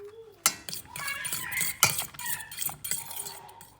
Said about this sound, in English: add in the 2 eggs and mix it around